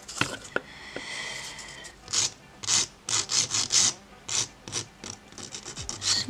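A nail file is rubbed in short, rhythmic rasping strokes to smooth the edges of dip powder nails. The strokes are close and distinct and come in quick bursts with brief pauses between them.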